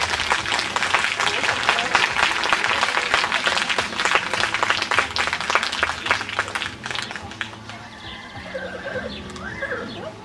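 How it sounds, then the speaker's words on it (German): Applause from an audience at an open day at a riding stable, dense steady clapping for several seconds that thins toward the end, with a horse whinnying faintly near the close. "Vielleicht können Sie noch einen kleinen Applaus machen,"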